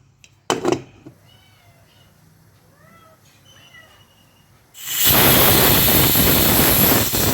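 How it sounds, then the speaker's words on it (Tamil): A pressure cooker of mutton for Dindigul-style biryani lets out a loud, steady hissing whistle that bursts in and holds to the end, following quieter kitchen clatter and a brief knock near the start. "நாலு விசில் வந்துருச்சு"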